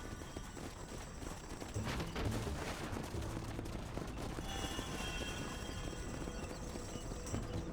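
Several horses gallop in Red Dead Redemption, their hooves drumming in a steady, dense clip-clop that runs throughout and swells slightly after the first couple of seconds, with a faint rumble beneath.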